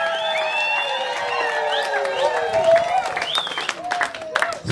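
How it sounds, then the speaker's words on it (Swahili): A crowd at a graduation ceremony at a rehabilitation centre claps, cheers and ululates, with high trilling ululation cries weaving over the applause and shouting voices mixed throughout. "Pigia Yesu shangwe na vigelegele."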